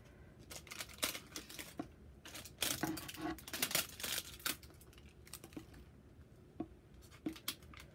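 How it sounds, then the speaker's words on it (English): Scissors cut through toy packaging in a run of close, crisp snips and crackles, clustered densely in the middle and then spaced out, with plastic rustling between cuts and no voices. "There's scissors right there."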